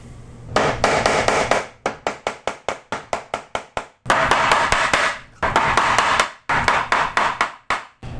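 Repeated sharp strikes of a rawhide, rubber or plastic mallet on a metal setting tool through fabric, a rapid rhythmic series of loud knocks in bursts with brief pauses.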